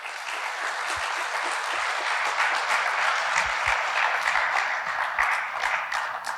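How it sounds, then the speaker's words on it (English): An audience at an NIT Warangal felicitation for alumni ranked in the civil services bursts into loud, sustained applause, many hands clapping densely and evenly throughout, with no speech over it. "Let us give him thunders of applause."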